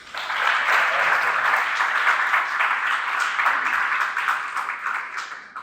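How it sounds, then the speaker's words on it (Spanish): Steady, dense applause from a conference audience at a talk on the Yucatán Peninsula water basin council, holding at an even level for several seconds before tapering near the end. "Pido un aplauso también para él."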